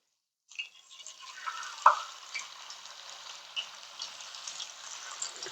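Thin slices of raw banana frying as crisp wafers in hot oil mixed with turmeric, starting as a sudden steady sizzle that carries on with small pops and crackles, close up, with no talking.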